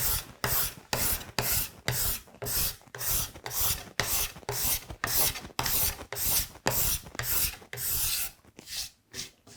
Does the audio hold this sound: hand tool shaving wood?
yes